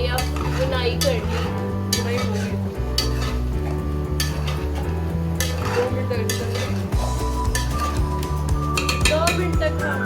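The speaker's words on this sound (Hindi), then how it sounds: "2 मिनट तक हमने इसी तरह इसको हाई फ्लेम में भूनना है" Tinda gourd being stirred and roasted in a pan over a high flame, with a spoon scraping and clinking against the metal in a steady rhythm over continuous sizzling, close and loud, under background music.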